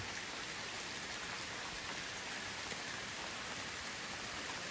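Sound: rain falling outside a cave

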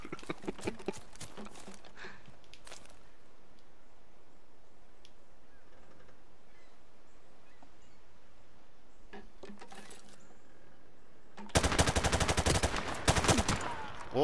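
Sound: gunshots in a video game

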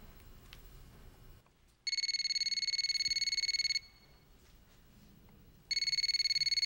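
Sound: telephone ringing

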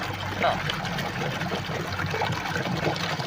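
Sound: water trickling through a rock crevice

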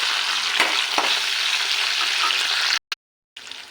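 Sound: tempering spices frying and being stirred in a pan

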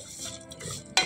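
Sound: noodles frying in ghee

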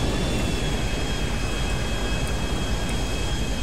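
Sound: airplane landing in a video game

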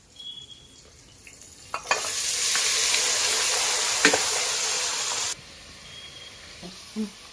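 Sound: garlic and onion frying in oil

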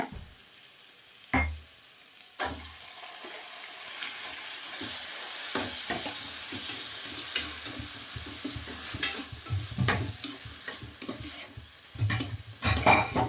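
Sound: prawns frying and being stirred in a pan

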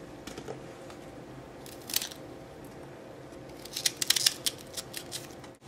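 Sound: cutting Brussels sprouts in half

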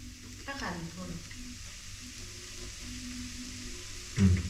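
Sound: spice tempering sizzling and stirred in pan for bitter gourd

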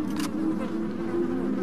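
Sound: buzzing flies, Resident Evil 4 video game

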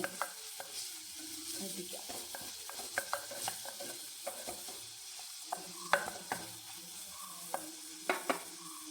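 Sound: garlic frying in ghee

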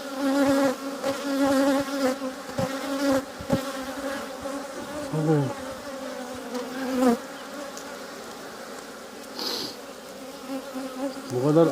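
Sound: swarm of honey bees buzzing around hives

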